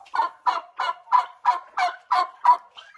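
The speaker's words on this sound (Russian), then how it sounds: "Выпускаю индюшку, которая квочка." A broody turkey hen gobbles in a rapid, regular series of about eight loud, close bursts, alone with no talking.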